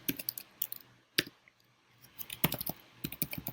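Typing on a computer keyboard while writing Turbo Pascal code, quick irregular bursts of light key clicks with a short pause in the middle, close and fairly quiet.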